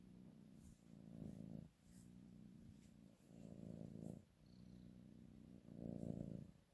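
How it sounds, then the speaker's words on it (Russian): A cat purrs close and softly in slow rhythmic waves, each breath cycle rising and falling in a low rumble, with no talk over it. "Смотрите, как мурлычет"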